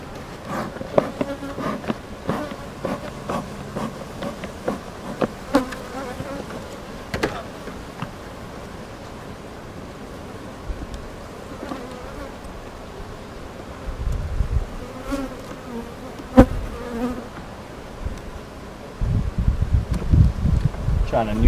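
Honey bees buzz around an open hive in a backyard apiary during a frame inspection, a steady swarming hum with individual bees passing close by, alongside rustling, occasional knocks and some talk.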